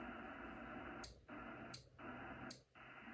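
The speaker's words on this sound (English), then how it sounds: "You can hear an audible click if you get outside of frequency." Yaesu FTDX-10 transceiver hissing with static as it is tuned just outside the band edge, broken by three short, sharp clicks about three-quarters of a second apart, each followed by a brief dip in the noise.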